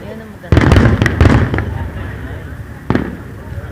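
Fireworks go off nearby in a quick cluster of sharp bursts, then one more blast after a short pause, each leaving a fading crackle while people talk.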